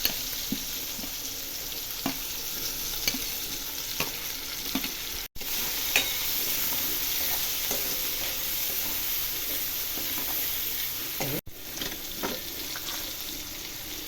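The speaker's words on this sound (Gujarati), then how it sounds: "કટિંગ કરેલી ડુંગળી એડ કરીશું. મરચાં પણ એડ કરી દઈશું." Chopped onion and green chillies frying in hot oil with mustard seeds, cumin and asafoetida for a methi dish, making a steady close sizzle with occasional pops and stirring scrapes, and no talking.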